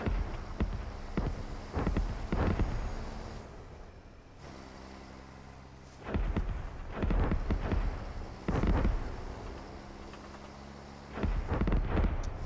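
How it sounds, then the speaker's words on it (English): A 155mm howitzer artillery barrage in the video game Squad, a series of heavy booming impacts arriving in clusters with rumbling pauses between them, loud and resonant. "Calling in 155mm howitzers on the objective, so steer clear."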